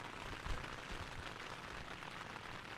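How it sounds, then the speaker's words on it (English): Rain patters on a tent during river camping, a soft, continuous hiss of drops close by with no voices. "it's raining. You might be able to hear it hitting the tent"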